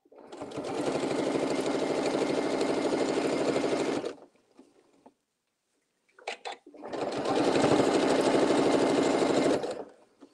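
Sewing machine stitching a patchwork table mat: two long steady runs of rapid mechanical whirring, close and loud, separated by a pause with faint handling clicks.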